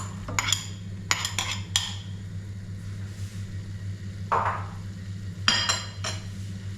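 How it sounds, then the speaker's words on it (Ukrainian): Carrots and onions go into a pot of stewing meat for chakhapuli-style chanakhi, giving several quick clinks and clatters of utensils against the pot over a steady low hum, with a soft scraping stir midway. "Тепер вже додаю до ем, м'яска нашого морквочку і цибульку."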